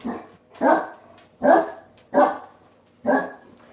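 Dogs barking on a farm, four loud evenly spaced barks about a second apart, close by and with no talking over them.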